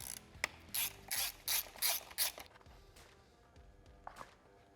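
A hand ratchet clicks in several quick bursts while the backing plate is removed from the carburetor of a chopper motorcycle, followed by quieter handling noises and a single sharp clink.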